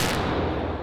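A single loud, close 9mm shot from a Beretta 92FS pistol rings out as a sharp, dense blast that fills the whole short moment.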